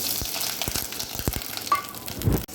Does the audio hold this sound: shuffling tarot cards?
no